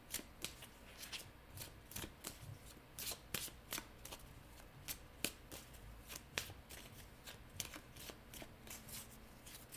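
Cards are shuffled and drawn for a tarot-style reading, a series of quick crisp riffles and slaps repeating irregularly at close range, fairly soft, with no speech over them.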